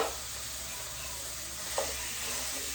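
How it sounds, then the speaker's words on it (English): A steady, close sizzle of ground beef frying in a hot cast iron pan, with a faint scrape of a wooden spoon stirring partway through. "I have a pound of ground beef. And I'm gonna throw that in there. You hear the sizzle?"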